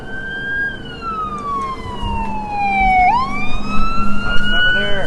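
An emergency siren wails and sweeps in pitch, loud and close, as traffic rumbles underneath near the waterfront in Santa Monica.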